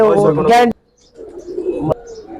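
Pigeons coo softly in a loft as someone speaks briefly at the start, followed by low murmuring coos and a faint chirp nearby.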